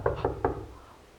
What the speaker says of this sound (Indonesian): Ada bunyi ketukan pintu.